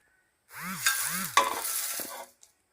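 Garam masala spices roasting in a pan, a close sizzle with scraping stirring strokes that runs for about two seconds and then stops, followed by a couple of small clicks.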